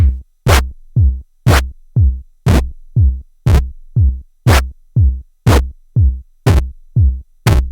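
A Minilogue XD synthesizer pattern with LFO modulation, evenly spaced pulses, each a low tone with a sharp bright click, repeating steadily about twice per second.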